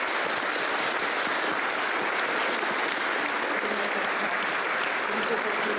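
Dense, sustained applause from an audience at a startup showcase finale event, a steady wash of many hands clapping at even loudness for the full stretch, with some voices blended in.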